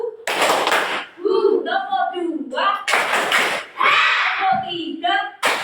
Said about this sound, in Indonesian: Kita tepuk bunga dulu semuanya.